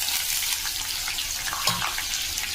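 Garlic sizzles in hot oil with whole cumin seeds, a dense, steady crackle that stays loud and close, with a brief low clink near the end and no voices.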